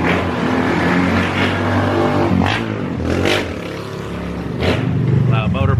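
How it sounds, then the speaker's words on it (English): A motorbike passes along a street, its engine note rising and fading with revving under nearby background noise and bits of talk. "Motorbike."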